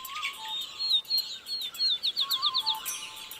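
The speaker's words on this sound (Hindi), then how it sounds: "और यहाँ सिर्फ पक्षी ही नहीं चहचहा रहे हैं।" Birds chirp at dawn in a village in Banaskantha district, Gujarat, with a run of quick, high tweets and calls at moderate distance over a soft background.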